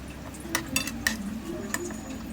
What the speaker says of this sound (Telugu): నేను ముందుగా ఆయిల్లో ప్రాన్స్ వేసుకుంటానండి